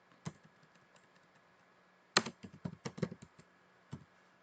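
Typing on a computer keyboard while entering a Linux cat command, a few scattered keystrokes early on, then a quicker burst of clicks in the middle, all crisp and close with no talk.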